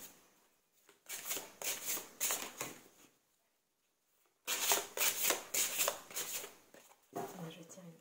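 Oracle cards are shuffled in two long riffling bursts of rapid fluttering clicks, close and crisp, with a brief pause between them.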